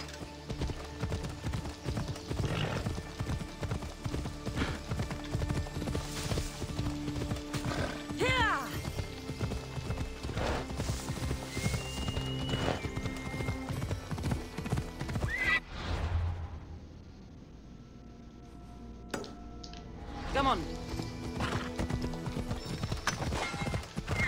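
Horse in the video game Assassin's Creed Odyssey, rapid rhythmic hoofbeats clip-clopping steadily throughout with several loud whinnies and neighs, close and prominent, briefly dropping out midway before resuming.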